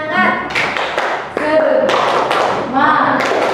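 A class of students performs a rhythmic Indonesian clapping chant, with sharp group claps and taps over loud shouted chanting voices.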